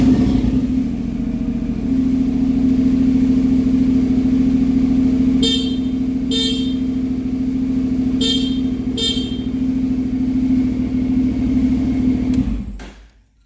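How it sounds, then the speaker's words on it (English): A Honda CTX700 motorcycle's stock horn gives four short, thin beeps in two pairs over the steady drone of the idling engine, which then cuts off abruptly near the end. "turn on the motorcycle so you can hear what the stock horn sounds like"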